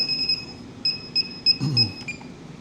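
Faint, high electronic beeps from a beeper installed on a Pavo Femto FPV drone chirp in short repeated pulses over quiet room noise.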